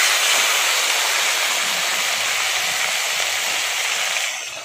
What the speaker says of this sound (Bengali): এবার ওই বড়ি ভাজার তেলেই কিন্তু আমি এই রুই মাছের মাথাটা ভেজে নিচ্ছি।